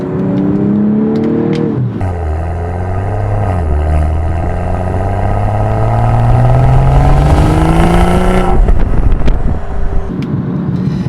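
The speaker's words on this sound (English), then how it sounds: "The M performance exhaust sounds absolutely great." A 2025 BMW M240 with an M Performance exhaust in Sport Plus mode roars as the engine revs up through the gears, rising and swelling loudly before easing back to a steady hum.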